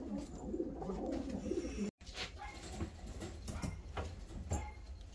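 Fancy show pigeons coo softly in a loft, with low murmuring calls over a constant background hum and a few light scuffles and taps, with no one speaking.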